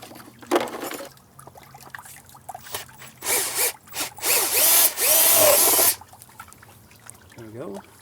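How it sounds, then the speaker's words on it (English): Power drill boring a hole through the back of a pond skimmer housing for a pump cord, with short whining bursts that build into two longer loud runs, separated by quiet handling noises. "I'm going to drill a hole in the back right on the top, just big enough for this cord to sneak out."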